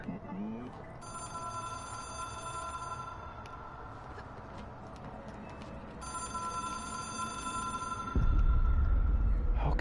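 Telephone ringing in the Control video game, a bright continuous electronic ring that sounds twice in long bursts over a low ambient drone, ending as a heavier rumble comes in.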